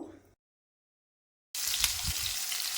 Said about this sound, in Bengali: এবার আমি আলুটাকে বেজে নেব